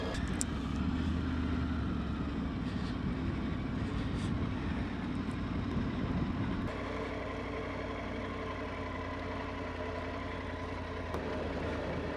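A Triumph Tiger 900 motorcycle rides past near Castle Crags, a steady broadband engine roar heard alone, full and loud at first, then dropping to a lower, more even drone as it moves on.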